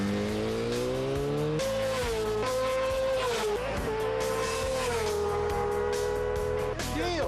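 A drag racing car's engine on the limiter at an airport strip event in Pikeville, Kentucky, sustained loud high revs bouncing in pitch, with brief dips and a tire-squeal edge near the end.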